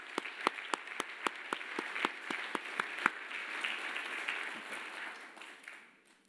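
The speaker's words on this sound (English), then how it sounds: "So round of applause, please." Audience applause at a pancreatic cancer presentation, starting with distinct sharp claps and swelling into a dense wash of clapping that fades out after several seconds.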